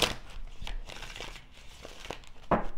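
Crisp papery riffling and snapping of tarot cards being shuffled, several bursts in quick succession, close by with no talking.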